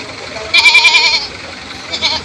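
A male goat at a Philippine livestock market gives one loud, close, wavering bleat, followed shortly by a second shorter bleat, with faint background noise around it.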